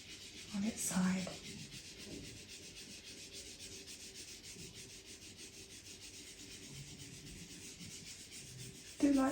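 Soft, steady rubbing of a blending stump on its side across graphite on paper, a faint continuous scratchy hiss with a couple of brief louder scrapes at the start and end.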